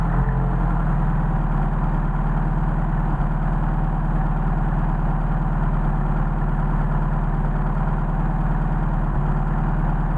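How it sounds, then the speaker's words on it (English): Mercedes 190SL engine fitted with Solex 44PHH carburetors idling at about 1400 rpm, a steady, loud, even rumble running continuously with no speech. "We're still idling at about 1400."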